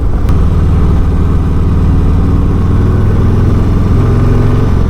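A 2022 Harley-Davidson Heritage Classic motorcycle under way, its engine a loud, steady low-pitched throb with continuous wind rush, heard close from the rider's position.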